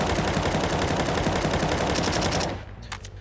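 Rapid automatic rifle fire in the video game Counter-Strike, a dense, loud, sustained burst of shots for over two seconds before cutting off, followed by a few faint clicks and tails.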